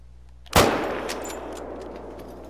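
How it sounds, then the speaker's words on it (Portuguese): A single sharp rifle shot in the hunting game theHunter: Call of the Wild cracks loudly about half a second in, then rolls away in a long fading echo over quiet ambience. "Vamos ver se eu consigo atirar naquele lá."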